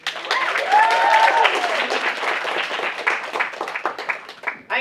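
Convention panel audience at AnimeNEXT 2015 applauds for Sailor Moon, a dense wash of clapping with scattered cheers and voices, steady and loud for most of the stretch before thinning near the end.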